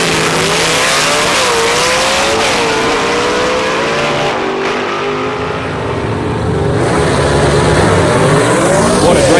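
Drag racing cars accelerate hard down the strip at Carolina Dragway in Aiken, a loud, continuous engine roar with rising and shifting pitch throughout.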